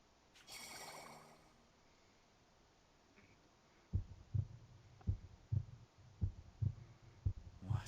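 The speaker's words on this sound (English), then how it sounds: "Nice heartbeat." Heartbeat effect from the video game Radiant Historia: steady low thumps in close pairs, about eight beats repeating evenly after a softer opening swell, with no talking.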